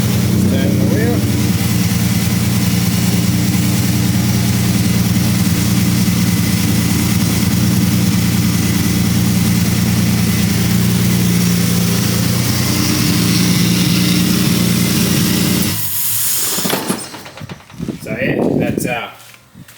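A Ford Barra engine in an International C1100 pickup starts and idles steadily with a loud, close, low rumble, then cuts off near the end, leaving quieter handling sounds.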